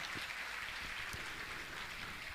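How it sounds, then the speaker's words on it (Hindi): An audience at a Jain religious gathering with Muni Shri Praman Sagar applauds, a steady wash of clapping from many hands at a fairly low level, without speech. "मैं चाहूंगा इनके सम्मान में आप जोरदार ताली बजाकर इनका सम्मान करें"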